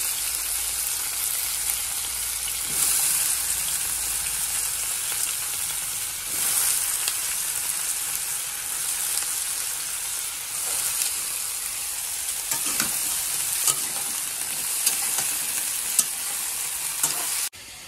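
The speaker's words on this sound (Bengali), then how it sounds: "এই কড়াইতে মাছ ভাজবো।" Fish coated with salt and turmeric fries in a wok, giving off a continuous close, dense sizzle. Occasional soft stirring scrapes break through the sizzle.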